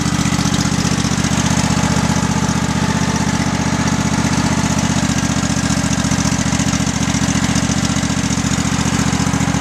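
A 2009 lawn tractor's Kohler engine with a clogged idle jet idles loudly and continuously up close, a rough, throbbing drone with an uneven knock running through it.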